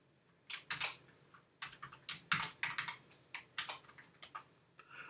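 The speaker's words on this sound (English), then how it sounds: "you can hear me typing" Password being typed on a computer keyboard while logging in over SFTP: irregular bursts of crisp key clicks in quick runs with short pauses, close and clear, with no talking.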